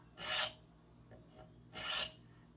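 A thin-ground CPM-4V Steingraber Shark knife edge is rasped off on a Shapton sharpening stone in two separate gritty, scraping strokes, close and fairly loud.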